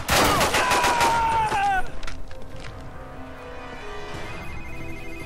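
A shrill electronic Sony Ericsson phone ring in the video game 007 Quantum of Solace trills loudly over a burst of rapid gunfire, then fades into a low droning background.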